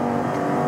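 The V10 engine of a Lamborghini Huracán Performante holds a loud, steady, buzzing high rev, heard close up for a brief moment with no talking.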